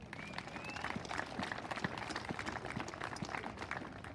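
An outdoor crowd at a school groundbreaking ceremony gives scattered, moderately distant applause, a steady patter of clapping lasting several seconds without speech over it.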